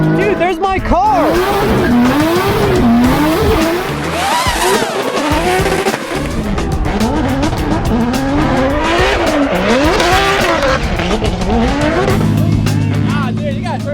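Race car at a track during offseason testing, its engine revving up and down in repeated sweeping pitch swells, loud and close, with occasional tire squeal and people talking over it.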